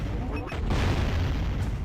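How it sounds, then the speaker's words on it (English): Cannon shot in the video game Jak & Daxter: a deep boom bursts out over a low rumbling background, brief and loud, with someone talking over it. "Make a good aim, make a good powerful shot, and take care of them."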